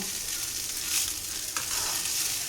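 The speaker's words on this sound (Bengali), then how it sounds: "হালকা হাতে দেখো মশলার সঙ্গে রাইসটাকে কিন্তু মিশিয়ে নেব" Cooked rice is gently stirred into spices in a hot pan for homemade prawn fried rice, a constant close sizzle with brief scraping strokes of the spatula.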